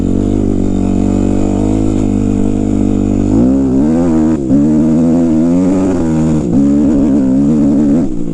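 A 2005 Kawasaki KX 250F dirt bike engine, loud and close, holding a steady drone before revving up and down in repeated rising and falling bursts while riding.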